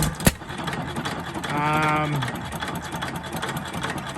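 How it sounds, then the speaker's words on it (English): A small pump draws 2-cycle fuel mix out of the fuel tank of a 3hp Famous engine, giving a steady mechanical whir that rises into a brief humming whine among clicks and background noise. "So right now we are pumping fuel out of the fuel tank."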